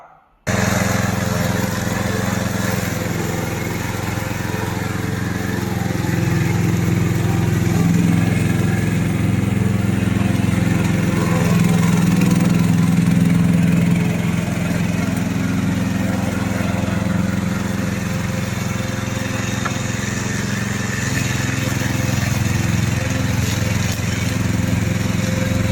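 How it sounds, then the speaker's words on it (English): A remote-controlled lawn mower's engine runs steadily and loud, a continuous droning rumble with no voices, holding a fairly even level throughout. "This is our remote controller mower."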